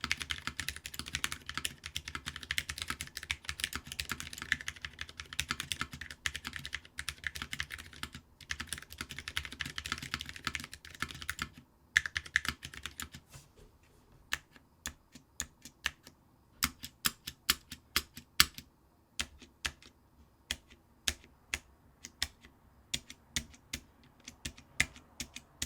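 Rapid, dense clacking on a Vortex Pok3r V2 mechanical keyboard, its switches and stabilizers close and clear, thinning into slower, separate keystrokes with pauses near the end.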